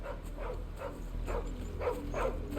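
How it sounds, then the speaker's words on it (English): A dog barking in Final Fantasy XVI, five or six soft yipping barks in an uneven rhythm at moderate distance over a low steady background hum. "No, that's a dog, not Chloe."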